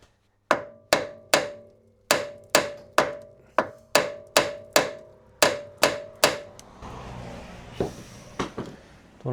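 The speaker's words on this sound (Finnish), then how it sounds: "Pitäisikö vähän moksaa tuon vasaralla vaikka?" Steady hammer blows on a Mercedes car part during servicing ring out one after another, about fourteen sharp metallic strikes with a clanking resonance, followed by scraping and rattling.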